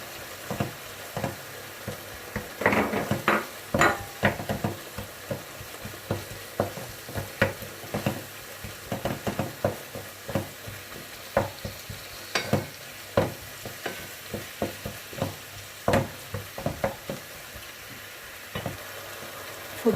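Minced kefta meat fries in a pan while being stirred, with a steady stream of sharp scraping and clattering strokes over a soft sizzle. The sounds are close and come in irregular rhythm, with no talking.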